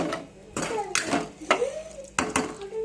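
Bay leaves, peppercorns and whole spices being stirred in a metal pan for a meal-maker curry, with loud clanking spoon strikes against the pan at irregular intervals, close up, between quieter scraping.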